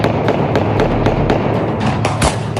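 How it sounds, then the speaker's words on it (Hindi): Celebratory fireworks or gunfire marking an election victory in Pakistan: a rapid series of loud, sharp cracks and thumps in quick irregular succession, close and continuous throughout. "जिन चुनावों में जीत पर पाकिस्तान में यूं बारूदी जश्न"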